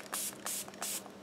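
A hydrating face mist is spritzed onto the face in three quick close bursts, each a short airy hiss, with quiet pauses between them.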